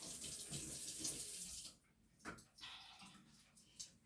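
A hot-water tap runs steadily into a sink for a moment, the flow cutting off briefly before resuming in short bursts, fairly close and without talk.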